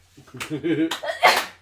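A person's sneeze at a tabletop game session, a short sharp burst at the end following a voiced intake of breath, close and fairly loud with a little talk around it.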